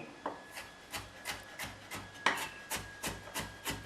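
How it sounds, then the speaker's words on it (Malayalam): Fresh ginger being finely chopped with a knife on a board, a steady run of about a dozen crisp, evenly spaced taps close up, with no talking. "ചെറുതായിട്ട് ഈ ഇഞ്ചി ഇങ്ങനെ അങ്ങോട്ട് അരിയുക."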